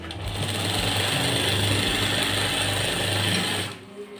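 A sewing machine runs a two-thread stitch along a shirt sleeve, one continuous close whirring run of rapid needle clatter lasting several seconds before stopping abruptly.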